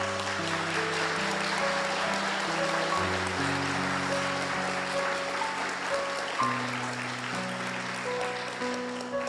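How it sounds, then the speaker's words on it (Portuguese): A church congregation applauds after a baptism, a continuous even patter of many hands under sustained organ or keyboard chords that shift pitch as the music plays on. "Uma salva de palmas."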